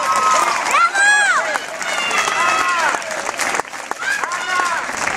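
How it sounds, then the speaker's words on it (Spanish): Crowd applause and cheering for a runner at a 10K race awards ceremony, loud and continuous, with shouting voices and whistles mixed in. "¡Ese aplauso para Ana!"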